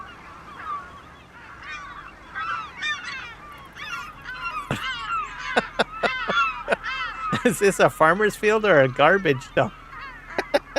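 Seagulls in Farming Simulator 25 squawk and honk loudly in a dense, overlapping flock, with the calls growing busier and louder toward the end as someone talks over them.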